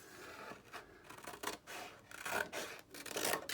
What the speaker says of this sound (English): I'm going to cut all the way until the end of this hinge like this, and now I'm gonna go on zigzag